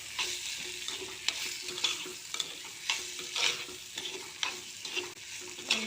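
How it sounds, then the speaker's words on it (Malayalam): Beef roast being stirred and mixed in a pan while frying, a continuous sizzle broken by repeated scraping strokes of the spoon in an irregular rhythm, close and moderately quiet. "നന്നായിട്ടൊന്ന് ഇളക്കി യോജിപ്പിച്ചെടുക്കാം."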